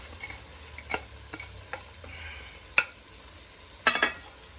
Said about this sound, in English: And now we will put green peas, all of them at the same time.